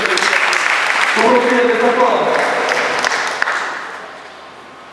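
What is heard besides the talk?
wedding guests applauding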